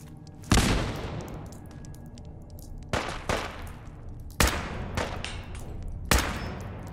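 Gunfire in Fallout 4, with four separate loud shots or short bursts spaced a second or two apart, each trailing into a booming echo over a steady game ambience.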